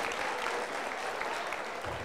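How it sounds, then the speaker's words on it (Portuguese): Faint, continuous applause from an audience at a sales lecture, clapping for the visiting team from Macapá, an even wash of hand claps without pauses. "Salva de palmas aí, turma de Macapá."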